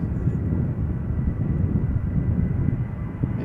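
KLM passenger jet departing Schiphol for Stockholm as flight 1109, a loud, steady low engine roar with a rumbling texture, heard alone at close range.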